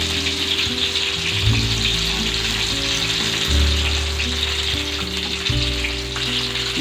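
Tomato pakoras fry in hot oil over low-medium heat, giving a steady close sizzle with fine crackling and occasional bubbling, accompanied by a low background hum.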